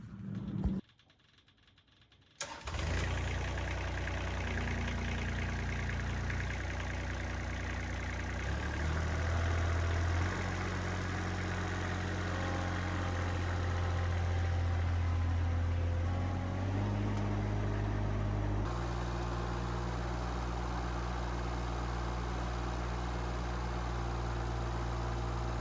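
An Avant 528 compact loader's engine starts after a short crank and settles into a loud, steady idle nearby, its low rumble shifting in pitch a few times as the revs change, with no talk over it.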